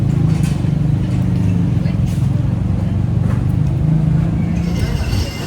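Traffic on a busy street beside a bus stop in Tecoman, Colima, Mexico, with a continuous low rumble of car and bus engines and a steady idling hum nearby.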